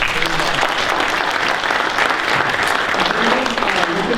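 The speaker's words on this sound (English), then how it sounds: "Round of applause" Loud, dense applause from a crowd at a regional county meeting on workforce development and economic opportunity, steady and close throughout, with faint voices beneath it.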